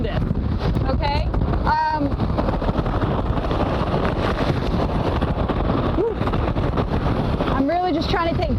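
Hurricane Laura's roaring wind gusts buffet the microphone in a constant, loud, broadband rush, with a reporter talking over the storm noise throughout.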